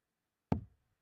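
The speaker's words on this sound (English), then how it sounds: "I've just heard a knock at the door" A single sharp knock at a door, close and distinct, sounding once in otherwise near silence.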